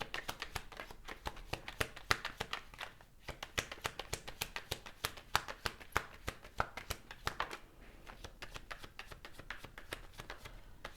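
Tarot cards being shuffled and laid out by hand, heard as quiet, rapid riffling and flicking bursts with soft taps, close and faint, with no speech.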